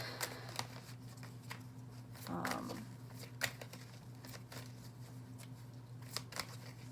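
Angel Tarot cards handled and shuffled by hand, soft intermittent riffles and snaps of card stock close up over a low steady hum, with a brief rustle partway through.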